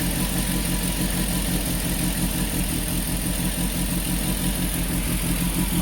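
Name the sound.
Peugeot 205 GTI engine started and idling with light revving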